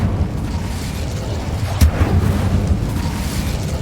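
A fire spell cast in Hogwarts Legacy bursts once as a sharp whoosh over a steady rumbling game backdrop, then fades into the ambient drone.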